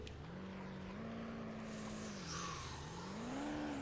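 Car engine in Car Simulator 2 labouring up a steep climb, a low steady drone that dips then rises again as throttle is reapplied, fairly quiet and alone.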